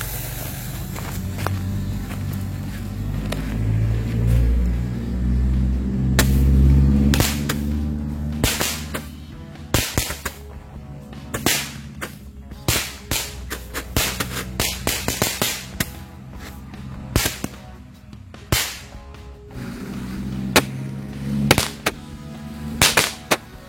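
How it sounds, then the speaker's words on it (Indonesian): Magic ball firecrackers go off in a rapid, irregular string of sharp cracks and pops, loud and close, with a low rumbling hiss early on and scattered bursts continuing throughout. "ini kita nyalakan mercon magic ball"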